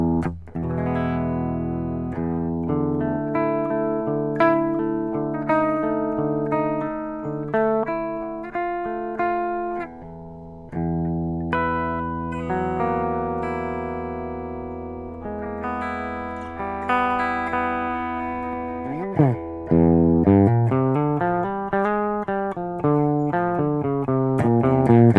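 Electric guitar played through a Fortin Cali Suite amp plugin with the overdrive switched off, giving a cleaner, less broken-up tone; sustained chords and melodic lines ring out steadily and alone, with a bending, wavering passage near the end.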